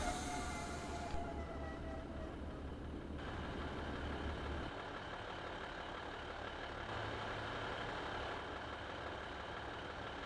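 A train in Train Simulator 2015 brakes to a stop at a platform at Avonmouth, on the Severn Beach to Bristol Temple Meads route. A steady, close low rumble carries on throughout, with a faint high whine that fades early on.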